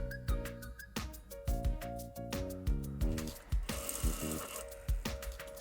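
A sewing machine stitches the lining of a fabric face mask in quick, rhythmic bursts of mechanical whirring and clacking. The machine starts and stops repeatedly, close and moderately quiet, with no voices.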